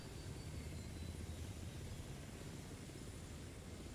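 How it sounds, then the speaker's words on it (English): Video game helicopter hovering while lowering a load through a roof, a steady broadband rotor and engine roar, moderately loud and continuous, with no talk. "Helicopter's gonna lower that right through the roof like a boss."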